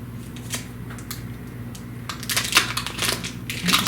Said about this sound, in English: we're going to cut them into little squares